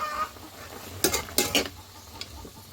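A spoon stirs native chicken and ginger in a cooking pot over a soft sizzle. A few quick scraping and clanking strokes come close together midway, then it settles back to quiet frying.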